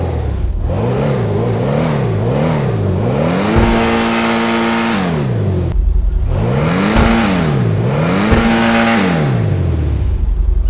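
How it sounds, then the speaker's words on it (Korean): Maserati sports car exhaust in GTA 5 revving repeatedly, the engine note climbing and falling in loud rhythmic surges, then holding high before another round of throttle blips, with no one talking. "마세라티는 천상의 배기음을 내는 자동차로 유명하죠."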